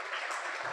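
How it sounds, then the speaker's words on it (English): Conference audience applauding a media partner, a brief dense wash of clapping that is steady and fairly faint throughout, heard alone without talk. "Can we give them a huge round of applause?"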